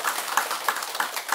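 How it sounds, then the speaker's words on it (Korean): An audience in a Buddhist dharma hall claps together with a steady, rhythmic beat of roughly four claps a second, moderately loud and close, with no talking over it. "우리 박수 한번 합시다."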